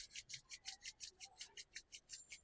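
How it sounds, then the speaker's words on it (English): Hands rubbed together briskly during pregnancy yoga, a soft rhythmic swishing of skin on skin repeating about five times a second, close and quiet, with no talking. "Rub your hands again."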